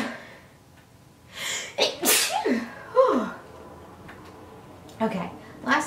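A person sneezes indoors, with a sharp, moderately loud burst after a few breathy, building intakes, then quieter breaths and faint voice sounds.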